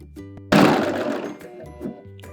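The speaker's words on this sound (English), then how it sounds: "put down our foot, and serge these two pieces together" An overlock serger stitches two pieces of fabric together, starting abruptly with a loud, steady whir that runs through the rest of the moment before easing off near the end.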